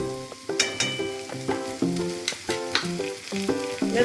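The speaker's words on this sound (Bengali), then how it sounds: "এবার ভালো করে কষিয়ে নেব।" Ginger and garlic paste sautéing in a pan for a potato chicken curry, a loud continuous sizzle and fry with rhythmic scraping stirs repeating about every half second.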